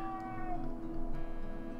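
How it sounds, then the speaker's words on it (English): A cat meows in a drawn-out, wavering cry, close and fairly loud, with no talk over it. "I brought you a fucking cat."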